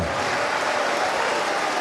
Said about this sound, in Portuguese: Vai aplaudindo e glorificando.